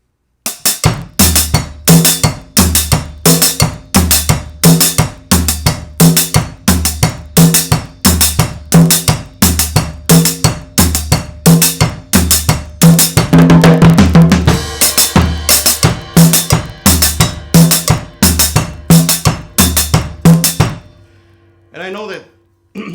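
A cumbia beat played on a drum kit, using the rack tom for a lower second tone, sounds as a steady, loud, close pattern of sharp cowbell-like hits and tom thunks repeating for about twenty seconds before stopping.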